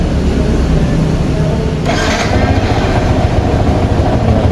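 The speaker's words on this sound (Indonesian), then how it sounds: "Kita menggunakan ampermeter, kita starter motor dulu." A Yamaha Xabre motorcycle engine cranks and catches, then settles into a loud, steady idle, recorded close in a workshop setting.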